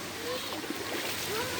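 Water rushing and splashing at a waterfall beside stone steps, a close continuous wash of flowing water with no clear breaks.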